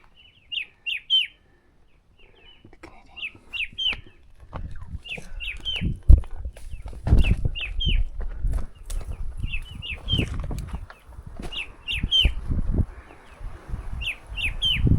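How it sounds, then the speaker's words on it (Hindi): Birds on a hillside path near Solan give repeated bright chirps in short clusters, carrying over rustling footsteps and outdoor movement noise, fairly near and steady throughout. "बहुत ही अच्छी चिड़िया चहचहा रही है।"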